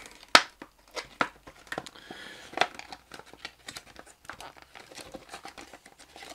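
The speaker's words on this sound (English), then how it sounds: "Let's remove a bit of cardboard." Cardboard packaging is torn and crinkled off a Poundland LED lamp: a string of sharp, close crackles and rips of uneven spacing, loudest near the start, with quieter rustling between and no talking.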